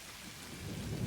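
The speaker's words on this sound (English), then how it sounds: "it probably rains everywhere" Rain falls with a low rumble of thunder in the video game Satisfactory, a very brief, steady wash of noise that grows slightly louder toward the end.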